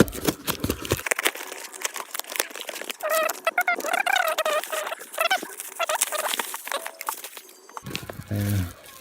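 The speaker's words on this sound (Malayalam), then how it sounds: "നമുക്ക് ഒന്ന് ജസ്റ്റ് ഫ്ലിപ്കാർട്ടിൻ്റെ കവറൊന്ന് അൺബോക്സ് ചെയ്ത് നോക്കാം" A Flipkart delivery cover holding a GoPro Hero 7 Black being torn open, with close crinkling and rustling of plastic packaging in irregular bursts, and brief speech at the start and end.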